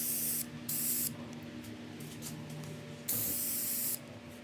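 Spray coating applied from a can onto DIY limb riser parts for a Jeep Wrangler TJ: three loud, close hissing bursts, the last one longest, with quiet pauses between.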